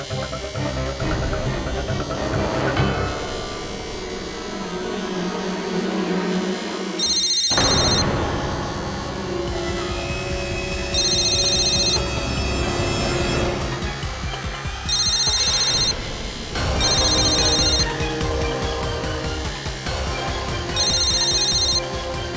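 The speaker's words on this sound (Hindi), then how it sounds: "अगर मैं उस नंबर को डायल करूं तो वो फोन इसी कमरे में बजेगा" A phone rings inside a courtroom, its repeated electronic ringing bursts recurring several times over dramatic music and voices.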